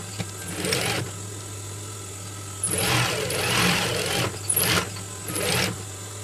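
A sewing machine stitches two pieces of fabric together for a newsboy cap, running in several bursts of rapid whirring with short pauses between them, close and clear.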